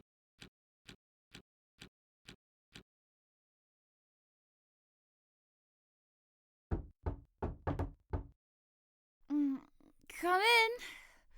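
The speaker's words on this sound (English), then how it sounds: "Okay, distinctive knock." A distinctive knock: six quick, evenly spaced raps on a door, then a pause before a second burst of about six heavier knocks, followed by a sigh-like breath and a brief vocal groan.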